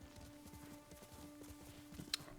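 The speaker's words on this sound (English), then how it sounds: "Gotta love a horse riding game." Horse hooves clip-clop in a horse riding video game, a quiet steady rhythm of soft repeated footfalls under a low hum, with one brief sharp click near the end.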